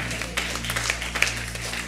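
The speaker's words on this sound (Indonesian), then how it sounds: "Tepuk tangan, meteraikan." A church congregation clapping hands during a Pentecostal prayer rally, a short burst of scattered claps over a steady low electrical hum.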